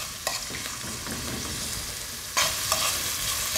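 Chicken pieces sizzle steadily in a hot pan while a utensil stirs them, a sharp scrape near the start and a louder burst of frying later.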